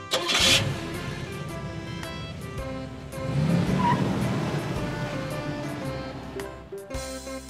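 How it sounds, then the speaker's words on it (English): Pickup truck engine starting up and pulling away, a loud close rumble that swells and surges as it accelerates, with a brief high screech near the start and a sharp cutoff at the end. "Pickup truck."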